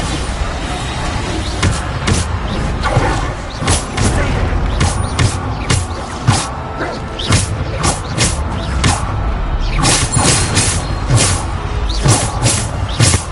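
Bombarda blasting spell explosions in the Hogwarts Legacy video game, a rapid series of sharp bangs and booms recurring every second or so over a constant rumbling bed of combat noise.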